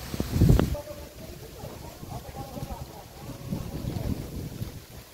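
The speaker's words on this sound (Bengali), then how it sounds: "ঝোড়ো হাওয়া হচ্ছে।" Strong gusty wind buffets the microphone outdoors in a Sundarban village, with a loud blast at the start and continuous rumbling low-frequency roar throughout.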